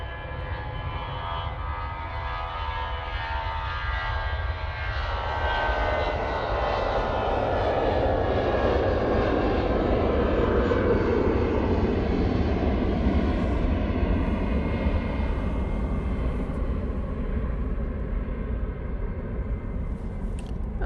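An EasyJet passenger jet taking off from Manchester Airport, bound for Barcelona, its engines roaring loud and steady throughout, with a broad rumble swelling and shifting in pitch as the aircraft passes and climbs away.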